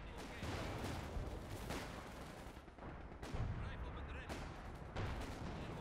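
Brummbär assault gun firing in Company of Heroes 2, heavy booming blasts recurring amid dense continuous battle noise, loud and close, with a voice talking over it.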